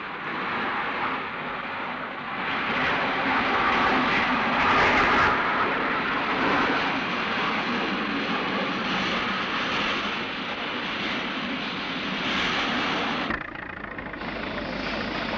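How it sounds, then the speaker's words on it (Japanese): A jet engine used for clearing snow roars steadily with a loud, broad rushing blast, sustained and close, with no voices. "ジェットエンジンの噴射力を利用して除雪を行おうという研究"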